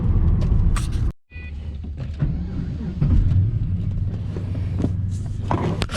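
A 2004 Pontiac GTO with an LS1 V8 and six-speed manual on the road, heard from inside as a steady loud engine and road rumble with a short dropout near the start.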